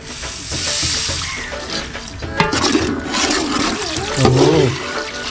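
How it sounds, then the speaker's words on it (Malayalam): Water is poured into a big pot of sizzling fish head curry, loud bubbling and hissing swelling up briefly over a steady frying sizzle, with a second surge of boiling near the end. "നമുക്ക് വെള്ളം ഒഴിച്ചു കൊടുക്കാം"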